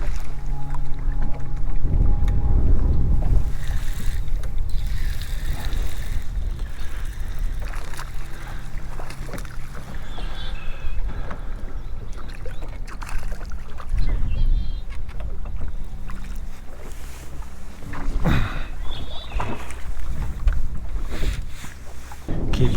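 Wind buffets the microphone on a fishing boat out on the water while bass fishing, a loud, continuous roar and rumble with gusts that rise and fall, plus occasional knocks and water slaps.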